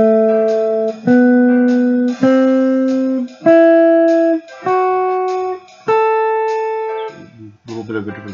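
Single melodic notes picked out one after another, a jazz pentatonic line improvised over a static minor chord, each note struck cleanly and left to ring before the next, alone and close.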